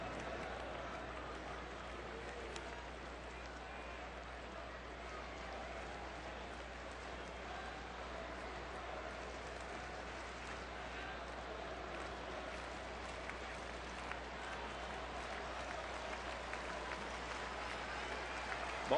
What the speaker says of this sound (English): this crowd starting to energize a little bit here at Miller Park